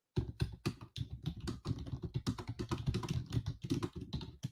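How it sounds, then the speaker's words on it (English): Fast, continuous typing on a computer keyboard, dense rapid key clicks rattling along without a break, close by and at moderate volume. "I'm typing it in our group"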